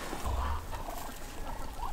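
Ducks in a warm indoor enclosure with the door open, with several birds huddled together. Low, steady quacking and muttering runs through the short stretch up close, alone, with no talk.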